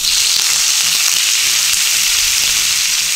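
Steak dropped into a pan over medium-high heat with onion frying: a loud, steady, dense sizzle that runs unbroken throughout, with faint clatters underneath and no voices.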